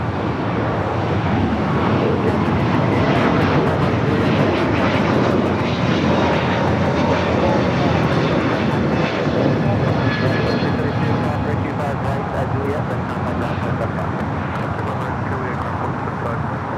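An Airbus A321neo jet touching down on the south side runway at LAX, a steady loud roar of engine and rushing air that holds throughout, with a faint voice talking underneath.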